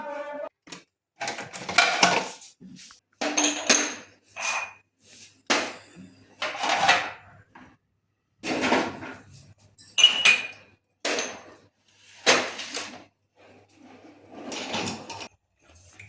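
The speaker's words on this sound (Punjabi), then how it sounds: "ਇਹ ਭਾਂਡੇ ਕੱਚ ਦੇ ਭਾਂਡੇ ਆਪਾਂ ਸੁੱਕੇ ਕਰਕੇ ਨਾ ਫਿਰ ਰੱਖਾਂਗੇ" Glass dishes are handled and set away on kitchen shelves, with a series of separate clinks, knocks and short sliding clatters spaced by brief pauses, close and fairly clear, and no talking.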